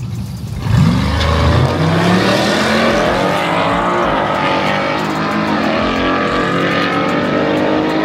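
A Firebird and a Mustang drag racing at Tri State Raceway in Earlville, loud engines roaring and revving hard with a rising pitch as the cars launch and pull away down the strip.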